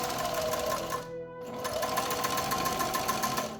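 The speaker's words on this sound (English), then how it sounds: "insert the elastic between them so that they overlap by 1/4 to 1/2 of an inch, and sew them all together" A sewing machine stitches elastic, Velcro and webbing together for a homemade airsoft tourniquet, running in a fast steady rattle, pausing briefly about a second in, then resuming, close and loud.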